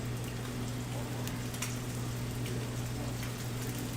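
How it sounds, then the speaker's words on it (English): Steady, soft crackling hiss of duck breast searing in a hot pan, continuous and even with a low hum underneath. "Start to hear that sizzle right away."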